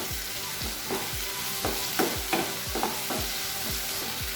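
Chopped tomatoes sautéing for potato masala, an even sizzle with regular, rhythmic scraping stirs of a spatula against the pan.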